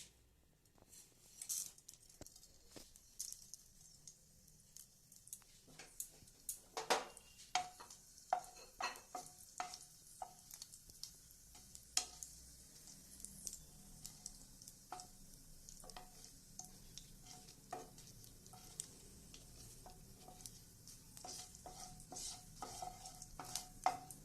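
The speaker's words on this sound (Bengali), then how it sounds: "এবার আমি কালো জিরে আর শুকনো লঙ্কাটা দিয়ে দেবো।" Nigella seeds and dried red chillies sizzling in hot oil in a kadai, a steady close crackle with frequent sharp pops and some stirring clinks, no voices.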